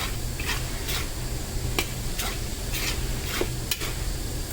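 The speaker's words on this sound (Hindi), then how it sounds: "मावा डालने के बाद 2-3 मिनट अच्छे से सेक करना चाहिए, क्योंकि मावा भी थोड़ा नरम रहता है" Mawa (khoya) being stirred and roasted in a pan while making mohanthal, a soft steady sizzle broken by repeated rhythmic scraping strokes of a spatula against the pan, close and moderately loud.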